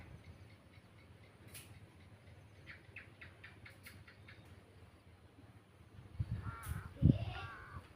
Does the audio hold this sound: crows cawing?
yes